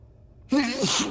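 A single close, loud sneeze bursts out after a quiet moment, a sharp voiced onset trailing into a breathy release, in a German-language Space Engineers gaming session.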